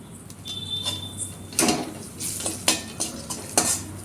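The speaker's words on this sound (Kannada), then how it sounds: "ಎಲ್ಲನೂ ಚೆನ್ನಾಗಿ ಕಲಿಸ್ಕೋಬೇಕು" Sabudana chivda is stirred with salt in a pan, giving a series of close scraping and clinking strikes of a utensil against metal, irregularly spaced and fairly loud against a quiet background.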